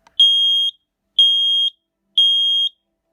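A smoke alarm sounds three identical loud, piercing beeps during a test, each about half a second long and evenly spaced roughly a second apart, with no talking.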